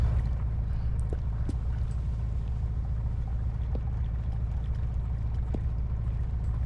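Low, steady engine drone of a fishing boat in the game Fishing North Atlantic, running continuously at moderate level with a few faint clicks on top.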